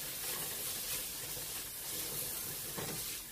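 Fresh parsley and a Cajun trinity vegetable mix sauté in a pan for seafood stuffed bell peppers, with a steady, dense sizzle and hiss that holds evenly throughout.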